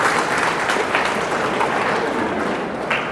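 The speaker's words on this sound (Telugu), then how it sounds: "చప్పట్లు కొట్టండి అయ్యా బాబు." An audience at a health talk on millets applauds, a steady dense clapping that carries on evenly for a few seconds, loud and close, with no speech over it.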